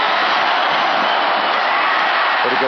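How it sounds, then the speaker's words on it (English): A dense, roaring wall of crowd noise fills a Milwaukee ballpark during an ALCS Game 5 between the Angels and Brewers, as fans cheer continuously and loudly with no break. "And now is when the crowd comes in."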